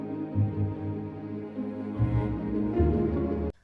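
Ambient orchestral score from the video game Morrowind during the final confrontation, a sustained, droning wash of low strings and soft harmonies that swells gently in waves, steady and moderately loud with no voices.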